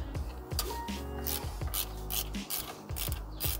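A wrench loosens a half-inch bolt during a power steering belt change on a Mazdaspeed Miata, making close, repeated ratcheting clicks and metallic rasps in quick uneven bursts.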